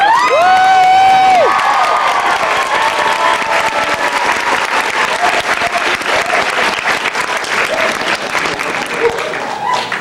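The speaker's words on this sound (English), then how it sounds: "Give her one more round of applause" A comic convention panel crowd applauds and cheers for voice actress Tara Strong, a dense, loud wash of clapping with whoops that holds steady throughout, with a voice heard briefly at the start.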